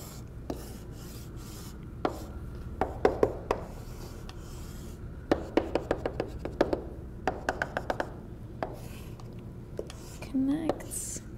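Pen or marker drawing on paper to sketch a face-centred cubic crystal structure: repeated short scratchy strokes in bursts, close and clear, with some brief tapping between them.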